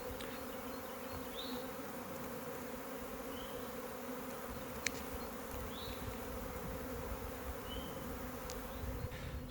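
Swarm of honey bees clustered on a tree, a continuous low, droning buzz heard from nearby with steady hum and faint passing whines of individual bees, no voices.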